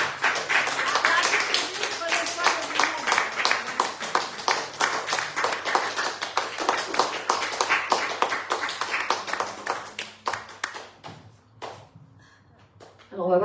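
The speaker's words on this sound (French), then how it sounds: "On peut s'applaudir." A church congregation at a Shabbat service claps after a closing prayer, sharp, dense hand claps at close range that thin out and stop near the end, with a few scattered taps and brief voices.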